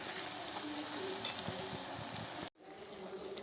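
Pork frying in a pan gives off a steady, moderate sizzle with occasional soft stirring scrapes, broken by a sudden brief dropout near the end before the hiss resumes.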